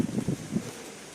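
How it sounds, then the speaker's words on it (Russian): Wind gusts buffet the microphone on a dark roadside at night near Yalta in October, soft low rumbling puffs that fade into a faint steady hiss. "Еще и ветер."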